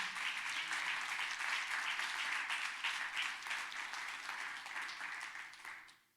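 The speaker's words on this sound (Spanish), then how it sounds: "dale un fuerte aplauso al Señor" A church congregation claps for the Lord during a sermon, a dense, sustained round of applause that holds steady, then fades out at the end, with no clear speech over it.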